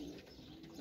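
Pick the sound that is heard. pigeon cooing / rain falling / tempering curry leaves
pigeon cooing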